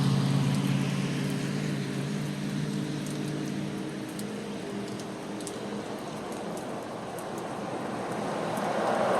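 Steady rain falls in a downtown street with a soft continuous hiss, while a vehicle's low engine drone fades in the background, the rain growing a little louder toward the end.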